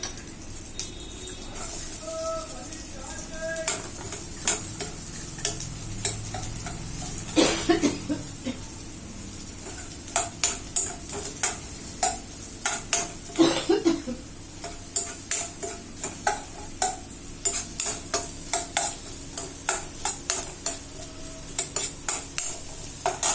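Onion sautéing with garlic in a pan, a soft continuous sizzle under frequent rhythmic spatula scrapes and clinks against the metal, growing busier toward the end.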